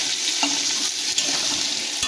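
Steady crackling sizzle of potatoes and onions frying in a pan, with a few scraping stirs of a utensil; no voices.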